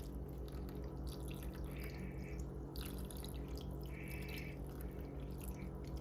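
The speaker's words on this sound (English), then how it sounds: "when you put in the broth, just pour it on the side like I always do" Beef broth poured into a pot of neck bones and butterbeans, a continuous close liquid splash and trickle with small dripping accents over a steady background hum.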